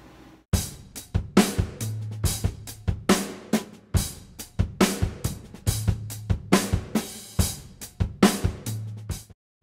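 Two layered plugin drum parts play together in a chill tune, a busy pattern of punchy kick, snare and cymbal hits with some toms, close and prominent with no talking.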